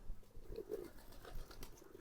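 A male pigeon coos in a pigeon farm, a couple of soft, low rolling calls close by amid faint rustling and wing movement, no voices.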